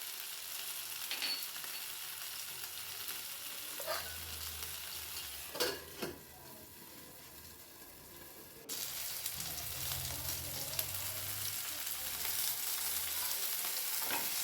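Food frying in a pan with oil and butter, a soft steady sizzle with occasional stirring scrapes and a few louder bursts, close and without voices.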